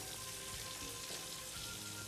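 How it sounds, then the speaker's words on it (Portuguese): Bacon fries steadily in a pan, a continuous crackling sizzle that stays even and fairly quiet for the whole stretch, with no voices over it. "O bacon continua fritando ali."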